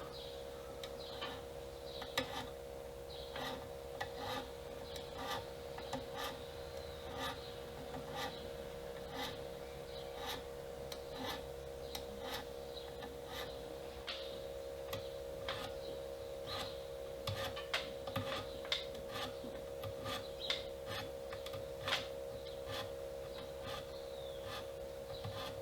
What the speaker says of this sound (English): first I'm going to round over the fretboard between frets